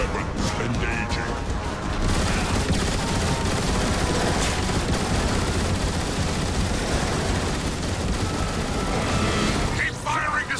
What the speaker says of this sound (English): Keep firing, Decepticons!